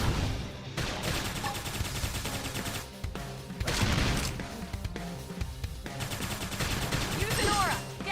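Rapid bursts of gunfire ring out during a Xenoblade Chronicles X battle, crackling almost without pause across the whole stretch amid layered game effects and music.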